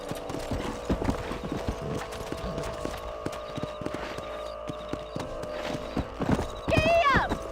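Horse hooves clip-clopping at a steady gallop in Red Dead Redemption, with whinnies and a loud neigh near the end, under a rider's shouted commands and game music.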